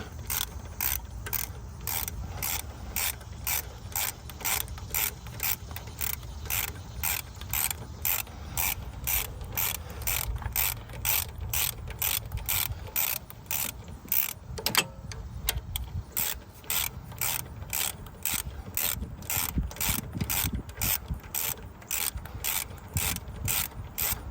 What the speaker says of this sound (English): let's go ahead and tighten up this pivot bolt, but we're not going to tighten it all the way because we need it to pivot